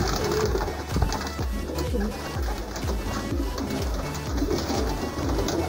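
Pigeons from an old lineage coo steadily and repeatedly in a close flock while being fed corn, the rhythmic low coos running throughout under faint background speech and outdoor noise.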